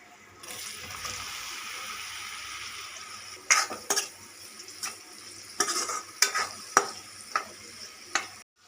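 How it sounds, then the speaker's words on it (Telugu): Paneer pieces fry in a pan with a continuous close sizzle, joined partway through by repeated scraping and knocking of a spatula against the pan in irregular bursts, no talking. "ఇలా పన్నీర్ బాగా ఫ్రై అయిన తర్వాత మనం వేరే ప్లేట్లోకి తీసుకోవాలి"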